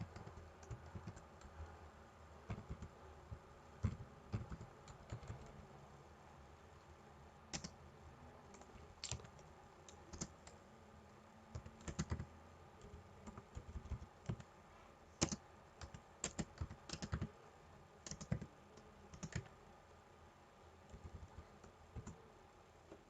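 Someone types a control-systems transfer function on a computer keyboard in quick, irregular bursts of close clicks and key taps, with short pauses between runs.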